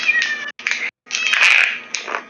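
A cat screaming loudly and close, several drawn-out wailing yowls broken by short silences, the longest and harshest cry in the second half.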